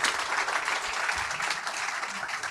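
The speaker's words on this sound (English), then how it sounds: "Let's give him a round of applause." Audience applause for a founder after a startup pitch at a live tech event, a dense, steady wash of clapping filling the room with no voices over it.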